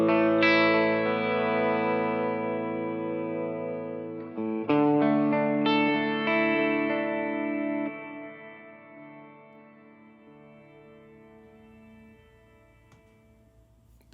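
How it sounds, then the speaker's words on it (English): Guitar chords played through Native Instruments Guitar Rig 6 with a long reverb effect and some distortion, struck a few times then left to ring, the wash of reverb fading slowly over many seconds. "These reverb's going forever."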